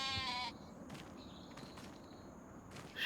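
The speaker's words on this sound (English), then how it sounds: "And we got some sheep." Sheep bleating in a modded farming video game, a short bleat at the start and another at the end over a quiet ambient background with faint scattered sounds.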